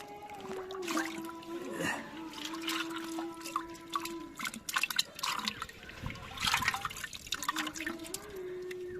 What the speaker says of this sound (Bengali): এই পুকুরে এই যে মিনার মাছের পোনা দিলাম